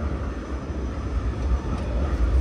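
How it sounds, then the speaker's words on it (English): A train rumbles past on a downtown Oslo street, a loud, steady low roar with no talking. "So that type of train, they called it tick."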